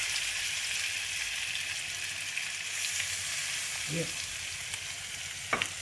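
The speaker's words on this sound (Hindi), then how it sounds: "we'll just pick up the skewers and then we'll gently place them on the tawa like this." Paneer tikka skewers sizzle in hot oil on a tawa, a steady frying hiss with a few soft clatters as they are set down, and a voice briefly speaks.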